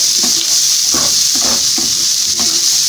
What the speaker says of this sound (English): as my onion is getting ready